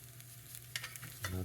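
A steak sears on a Samsung NE63B8211SS induction range, giving a faint, soft, low sizzle with little spitting and occasional small crackles.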